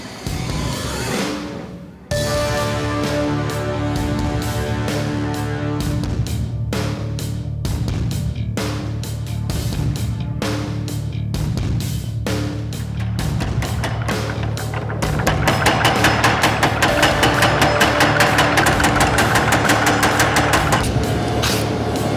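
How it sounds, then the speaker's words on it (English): Hot 8670 steel is hammered into knife bevels over a loud, steady mechanical drone, the rapid blows falling in dense regular bursts that speed up near the end, close and forceful. "I'll move on to forging out my bevels"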